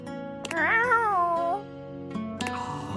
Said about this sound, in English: A small creature that looks rather like a black cat rubs up against Mateo's leg, meowing for his attention.